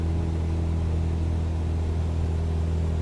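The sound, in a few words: Cessna 172 aircraft engine as throttle increases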